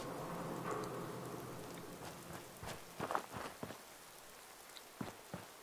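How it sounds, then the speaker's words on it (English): Steady rain in a video game patters in the background, joined near the end by a few soft knocks and thuds like footsteps. "it's so dark and it's still raining!"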